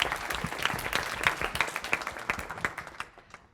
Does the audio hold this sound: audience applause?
yes